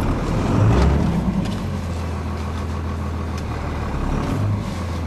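A Cummins diesel truck in first gear and four-wheel drive rumbles steadily at low revs as it crawls forward toward a pile of wet snow, its deep engine drone close and continuous.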